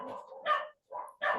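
Dogs bark in a few short, sharp bursts with brief gaps between them, fairly prominent and close.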